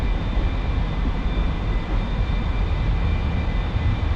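An A-4E jet in the DCS flight game rolls down a runway for takeoff. Its engine gives a loud, steady broadband roar with a thin high whine running through it, and no voices are heard.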